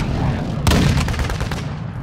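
Gunfire in Warzone 2 on Al Mazrah, a loud, close burst of rapid shots following a heavy impact, over a constant low rumble.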